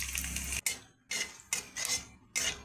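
Spices and oil being stirred in a hot pan (kadai) with dried red chilli, cumin, cardamom and salt while cooking chicken for kosha mangsho: loud sizzling and scraping in four bursts separated by short quiet gaps.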